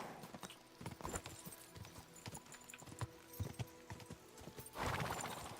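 Horse hooves clip-clop at a steady walking pace in Kingdom Come: Deliverance 2, fairly close and moderately loud, with a brief burst of louder noise near the end and no talking over them.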